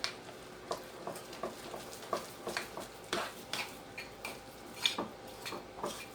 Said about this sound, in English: This is all you do, stir it.